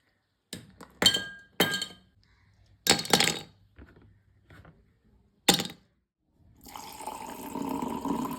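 Ice cubes clink against a glass while iced coffee is made in a home kitchen: a handful of sharp, separate close-up clinks and knocks with short pauses, then a steady rush of pouring or running water at the end.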